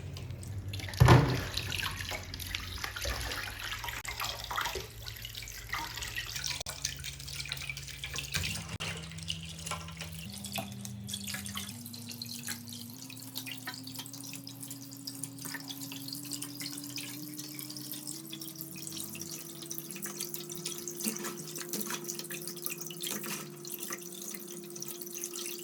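Tap water runs steadily into a sink as crabs are washed, a continuous splashing flow with a brief clunk near the start and the pitch of the stream shifting as the basin fills.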